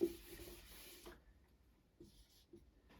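Pen writing out a probability question in a class 10 maths lesson, a soft scratchy stroke for about a second, then quiet with a few faint taps and brief scribbles.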